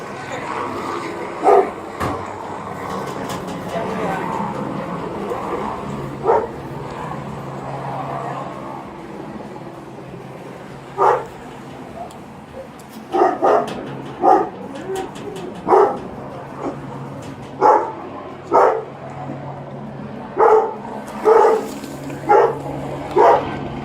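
A police K9 dog barks repeatedly in sharp, single barks, sparse at first and then coming more regularly over a noisy background murmur.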